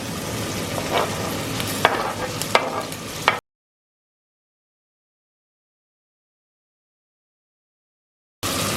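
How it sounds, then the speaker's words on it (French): Onions frying in hot oil for a sardine sauce, sizzling with a few stirring scrapes for about three seconds, then silence before the sizzle briefly returns. "on va faire revenir les oignons"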